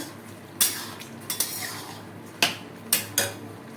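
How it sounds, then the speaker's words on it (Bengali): A spoon scrapes and knocks against a pot while sugar is stirred into khichuri, with five or six sharp, close metallic clinks spaced irregularly over a quiet background. "এবার আমি চিনি দেব, নেড়ে চেড়ে নেব"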